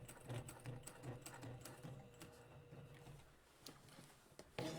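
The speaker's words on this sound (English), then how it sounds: "So we're just going to stitch across the top, come down 2 or 3 stitches, and then stitch across again." A sewing machine stitches across the top of a belt loop, running in short bursts of rapid rhythmic needle clatter with brief pauses between passes, close and clear with no talk.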